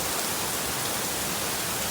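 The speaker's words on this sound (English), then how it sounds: "it's raining super hard outside" Heavy rain falling outside pours as a dense, loud, unbroken hiss with no breaks or voices.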